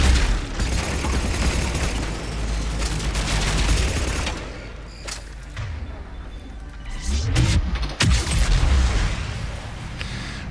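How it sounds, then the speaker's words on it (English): Explosions and gunfire in the Mass Effect 3 video game, a sustained roar of blasts and shots with several sharp booms standing out near the middle and end. "Nice little fire explosion."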